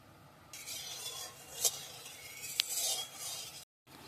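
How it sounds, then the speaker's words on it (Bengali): Potatoes and pointed gourd frying in hot oil in a wok give a steady hiss with faint stirring scrapes and a couple of sharp utensil clicks, ending in a brief silence. "তেল দিয়ে আমরা আলু পটলগুলো ভেজে নেব"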